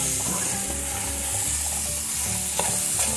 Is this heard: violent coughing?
no